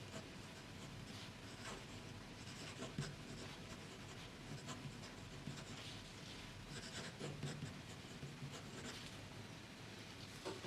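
A Pilot 743 fountain pen writes on paper, giving faint, steady scratching strokes over a soft background hiss.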